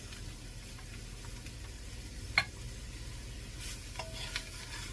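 Onion, celery and bell pepper sizzling in a hot roux for collard green gumbo, a steady soft crackle with light stirring and one sharp utensil tap partway through.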